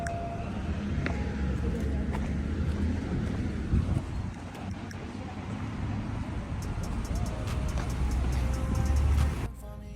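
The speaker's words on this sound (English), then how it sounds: "For right now, I'm going to be driving." A car is being driven on the road, with steady low engine and tire rumble and wind noise inside the cabin, plus a few faint clicks and knocks along the way.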